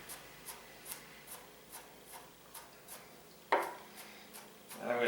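A finger rubs minced garlic off a kitchen knife blade in a series of soft, evenly spaced scraping strokes, followed by two louder scrapes at the end, close and quiet with no talk.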